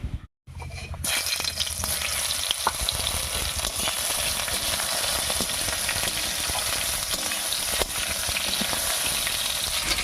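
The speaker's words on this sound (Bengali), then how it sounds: "এবার এর মধ্যে দেবো কেটে রাখা ঝিঙেগুলো" Chopped ridge gourd hits hot oil tempered with whole cumin and a bay leaf, bursting into a loud, continuous sizzle after a brief quiet start, with occasional crackles and no talking.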